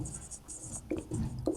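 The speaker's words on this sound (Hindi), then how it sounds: "अब हम लिखेंगे" Pen scratching across paper while solving a class 12 inverse trigonometry maths problem, with short, soft strokes close by and faint voice sounds underneath.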